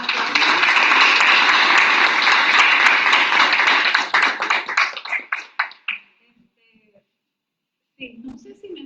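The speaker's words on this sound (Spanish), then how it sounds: "Vamos a darle un aplauso." An audience at a round-table academic session applauds loudly and steadily for about four seconds, then the clapping thins into scattered individual claps and fades to silence before a voice begins speaking.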